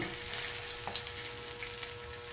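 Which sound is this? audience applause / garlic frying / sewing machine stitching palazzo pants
garlic frying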